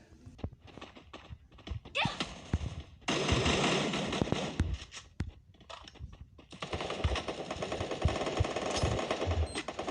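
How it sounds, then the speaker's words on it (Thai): Charge Buster electric shotgun in Free Fire, with sharp clicks and bursts of harsh, crackling noise that swell into sustained loud blasts, set among other rapid shots and game effects. "ปืนลูกซองชาร์จบัสเตอร์ หรือลูกปืนลูกซองไฟฟ้านะ เป็นปืนที่เราต้องกดค้างเอาไว้นะครับ"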